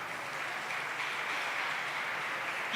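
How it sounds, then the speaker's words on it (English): Audience applause at a racquetball tournament ceremony for the 2021 US Open singles final: a steady, even wash of many hands clapping, moderately loud and sustained throughout with no distinct voices. "So big applause for my parents."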